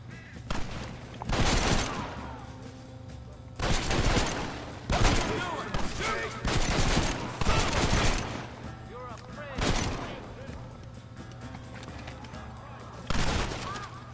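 Gunfire in a Red Dead Redemption battle comes in several loud, dense volleys of overlapping shots separated by quieter gaps, with shouting voices mixed in among the bursts.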